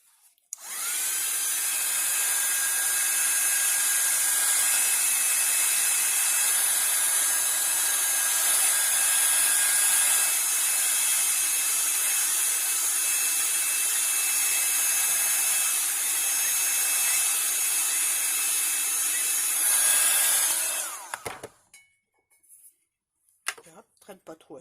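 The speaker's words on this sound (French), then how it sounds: "Je vais chauffer ma mousse." A heat gun blasts hot air onto stamp foam, a loud, steady blowing roar that runs unbroken for about twenty seconds before cutting off abruptly.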